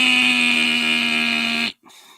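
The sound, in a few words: buzzer sound effect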